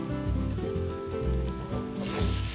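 Grated papaya thoran being stirred in a hot pan, a soft continuous sizzle with faint scraping, fairly quiet and without speech.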